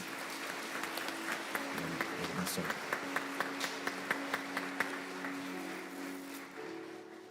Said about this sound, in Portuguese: Mais uma salva de palmas, Jesus.